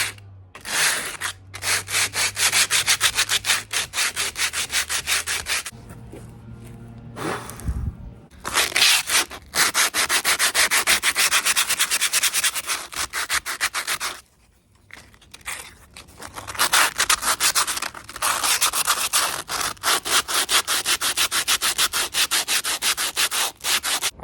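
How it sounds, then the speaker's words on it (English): A concrete fingerboard obstacle is sanded by hand with coarse 60-grit sandpaper, producing loud, close, raspy back-and-forth scraping strokes in long runs broken by a few short pauses, with no voices. "today is the day that we get to sand this"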